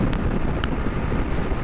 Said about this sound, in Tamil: காத்து வேற பயங்கரமா அடிக்குது.